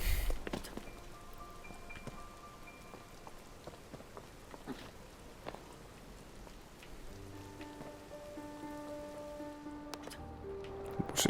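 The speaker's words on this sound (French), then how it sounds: "Bon, il pleut, c'est la merde." Rain in the video game Zelda Tears of the Kingdom, a soft, steady patter of drops that goes on without a break, with faint scattered taps and some tonal game sounds coming in toward the end.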